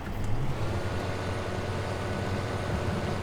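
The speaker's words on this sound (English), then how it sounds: "That John Deere is such a good tractor." John Deere tractor engine in the Farming Simulator 2015 game, Sandy Bay map: a steady, continuous low diesel drone with no clear changes in pitch, heard alone at moderate level.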